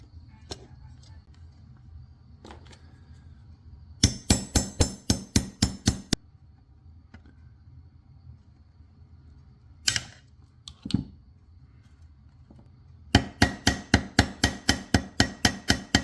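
Larger copper rivets are hammered into a metal armor leg piece, two close runs of sharp, rapid metallic blows separated by quiet stretches with a few isolated taps.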